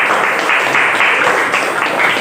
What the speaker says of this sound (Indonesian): kasih tepuk tangan untuk kelompoknya.